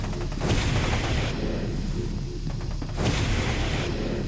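Gunfire in the video game F.E.A.R. 2: dense, loud bursts of shots and booms sounding over a steady rumble, with two heavier volleys and no talking.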